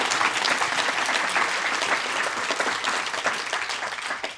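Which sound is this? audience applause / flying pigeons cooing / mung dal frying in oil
audience applause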